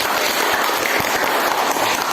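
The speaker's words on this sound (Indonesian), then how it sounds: "Oke, tepuk tangan dulu untuk ini." Classroom applause fills the whole moment, a dense, even patter of many hands clapping at once with no talking over it.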